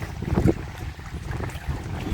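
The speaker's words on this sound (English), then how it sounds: "It's quite windy." Gusty wind beside a lake buffets the microphone with low rumbling, steady blustery noise and no voices.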